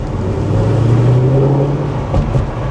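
A Mercedes Edition 125 car's engine runs with a steady low hum and faint whir, heard close from inside the car while driving, no voices over it.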